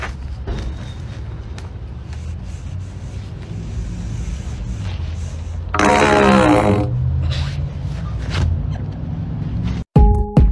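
A fart blown into a length of PVC pipe at a hardware store makes a loud, resonant, rumbling burst lasting about a second, over a steady background hum and some handling noise, followed by a brief sharp clatter near the end.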